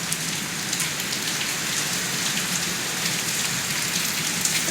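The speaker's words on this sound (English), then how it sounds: "I can't make it stop raining for you." Steady rain falling and pattering on the ground outdoors, a dense, even hiss with scattered drop impacts, fairly close and with no talk.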